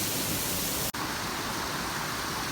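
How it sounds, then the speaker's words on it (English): Silver Falls heard from directly behind the falling water: a loud, close, unbroken wash of roaring white noise with one brief dropout near the start. "We are literally behind the waterfall."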